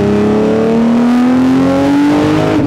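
A Nissan GT-R R35 tuned to 1500 hp revs hard and accelerates, the engine note climbing smoothly and steadily, very loud and close, with no voices over it.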